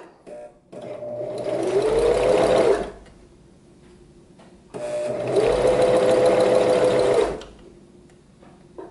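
Sewing machine stitching a baby hem with a hemming foot on special occasion fabric, two close bursts of rapid motor hum, each about two seconds, separated by a short quiet pause.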